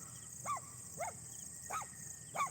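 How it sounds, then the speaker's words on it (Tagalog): Angry dogs barking outdoors in open fields in Daet, Bicol, four sharp barks spaced unevenly at moderate distance over steady background noise. "Galit na galit yung aso."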